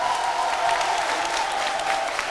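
Steady, moderately loud applause from a studio audience on a French-language midday TV show, a continuous crowd clapping with a faint tonal hum underneath.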